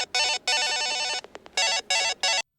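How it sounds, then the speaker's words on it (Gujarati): A telephone rings over and over in electronic bursts, with a few short blips in between, clear and close, and it stops abruptly. "રિંગ પર રિંગ વાગી રહી છે અને આ ફોન કઈ પાડી જ નથી ભાઈ."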